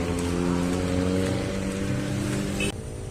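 Heavy rain pours down steadily and loud, a dense broadband wash over a low rumbling engine-like drone, cutting off abruptly near the end.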